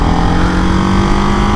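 A Ducati Hypermotard 698 Mono single-cylinder motorcycle holds its engine at high revs while sliding on a road ride, giving a loud, steady, buzzing drone throughout.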